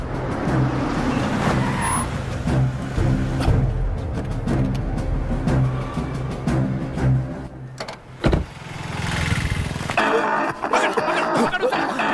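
Car driving in a dubbed South Indian film scene, a rumbling engine and road noise with shifting intensity, a brief dropout near the end, mixed with sound effects and background music.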